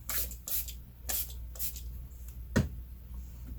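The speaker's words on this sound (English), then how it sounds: "And then you spray those with water." Several short, hissing bursts of a water spray bottle misting watercolor card, spaced unevenly, close and fairly quiet in a quiet room.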